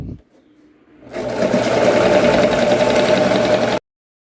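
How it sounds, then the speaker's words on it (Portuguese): A sewing machine stitches elastic in a continuous circular seam, breaking after a near-silent second into an even, buzzing mechanical run for about three seconds before stopping abruptly. "E eu vou passar a costura na volta toda, novamente."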